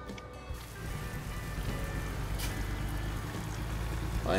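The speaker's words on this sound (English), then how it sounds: "So I can hear the inside of the truck." Inside the cab of a truck in American Truck Simulator, a steady low engine drone hums continuously with faint rattling and road noise, quiet and even throughout.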